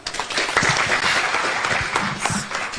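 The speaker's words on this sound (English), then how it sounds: "Let's clap for her." An audience at a World MSME Day event at KICC in Nairobi applauds, a sustained dense burst of clapping from a crowd indoors, fairly loud and close, without speech.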